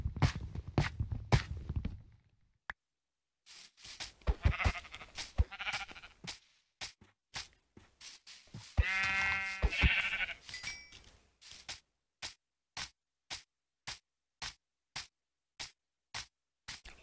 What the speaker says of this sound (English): There's a million sheeps everywhere.